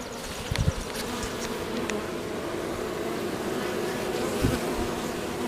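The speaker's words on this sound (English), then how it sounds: "You got to be careful now when you grab these bees off the entrance." Honeybees buzz around a hive entrance in a steady, dense drone, a swarm humming continuously close by, with a few louder passes near the start and end.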